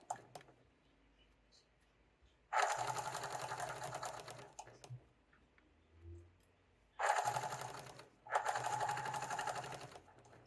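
Sewing machine edge stitching along the border of a mitered blanket at about 3.5 stitch length, two separate runs of rapid even whirring, close and clear, with quiet pauses and light handling between them.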